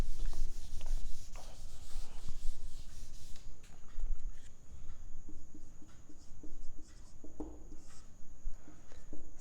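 Steady scratching and rubbing strokes of writing on a board during a math lecture on complex numbers, close and continuous with short pauses between strokes.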